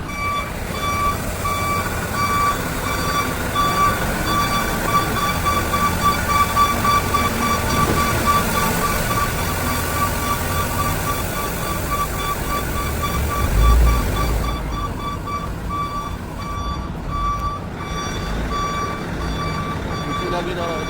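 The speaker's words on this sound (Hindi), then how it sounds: "वो हटेगी तो फिर मैं गाड़ी निकालूंगा बाहर।" A vehicle's reversing beeper sounds in a steady repeating pattern over rumbling engine and ambient street noise, close by, with a voice speaking at times; the beeping cuts off near the end.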